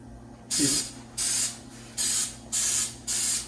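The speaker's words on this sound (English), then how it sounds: "do you want to use a pan release spray or butter?" Four short bursts of pan release aerosol spray, each about half a second, hissing close by in a steady rhythm with brief pauses between.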